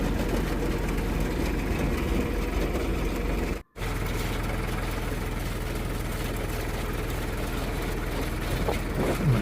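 A tractor engine drones steadily at close range in a potato field during planting, a low continuous rumble with a brief dropout partway through, no voices.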